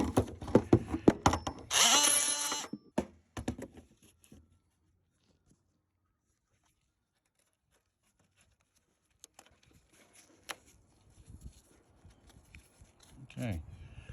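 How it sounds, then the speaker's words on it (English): An oscillating multi-tool trims fiberglass laid over a gutter downspout outlet in a historic home's box gutter. It gives one short, loud, high buzzing burst of about a second, surrounded by handling clatter, quiet gaps and some talk. "using the multi-tool, I'm gonna trim that up a little bit"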